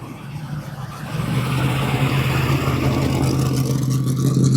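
An old Corvette with an NCRS plate pulls out at a Mecum collector car auction, its engine swelling from a low idle into a loud, steady rev that holds close by, with no talk over it.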